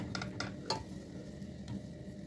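Coarse-grained sugar is stirred in a pan to make caramel syrup, a few quiet scraping and clinking strokes of the utensil close by, spaced irregularly.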